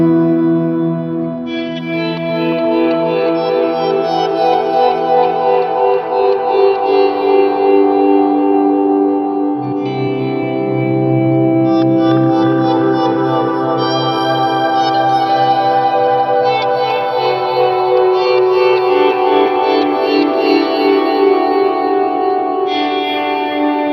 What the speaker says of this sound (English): what I quite like for an ambient thing is the slow gear combined with a chorus, a delay, the Terra Echo, and the whole reverb cranked all the way up